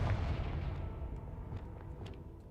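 A Confringo fire spell blast in the Hogwarts Legacy video game: a low, rumbling boom that fades out over a couple of seconds, fairly faint, with small crackles trailing behind it.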